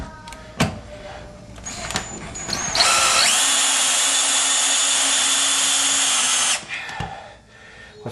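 A power drill drives a screw with a sustained high whine lasting a few seconds. Brief clicks and handling knocks come before and after it.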